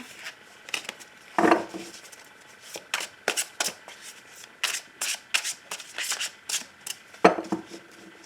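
Tarot cards being shuffled and cut for a love reading: close, crisp riffling and slapping bursts of cards, irregular and fairly loud, with a few sharper snaps as the deck is split and restacked.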